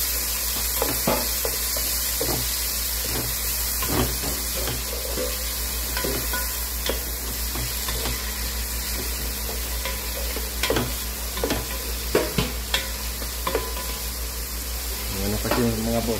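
Tomatoes dropped into garlic sautéing in a pan for sinigang na bangus, a steady close sizzle with repeated scraping stirs and clacks of the utensil throughout, a few louder clatters near the end.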